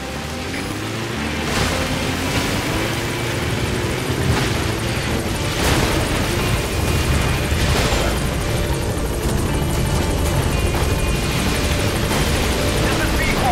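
A support helicopter approaches a landing zone in Metal Gear Solid V, its steady rotor roar filling the scene with rushing, wind-like noise and periodic swells of wash throughout.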